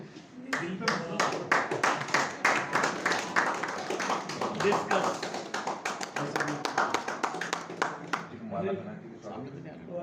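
An audience at a closing ceremony of a friendly cricket tournament in a press club courtyard applauds, a dense sustained burst of close hand claps that lasts several seconds before tapering off.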